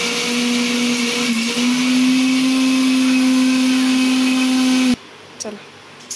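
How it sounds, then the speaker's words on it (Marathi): A mixer grinder whirs loudly and steadily as it grinds masala for a spicy soybean chunk recipe, its high motor whine holding for about five seconds before cutting off, leaving faint clatter. "आता ते आपल्याला मिक्सरमध्ये सर्व मिश्रण बारीक करायचं"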